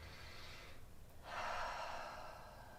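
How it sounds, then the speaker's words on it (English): Slow deep breathing during a seated yoga class, a soft close inhale followed by a longer, fuller exhale, quiet and alone. "we'll take a couple nice deep breaths"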